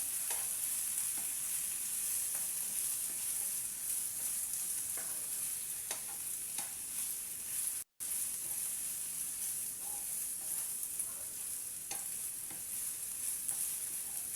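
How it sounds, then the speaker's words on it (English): Potatoes frying in a pan with cooked onions, a continuous bright sizzle broken by occasional soft clicks of stirring, heard alone at an even level. "I'm going to add on my potatoes. Let it cook a little."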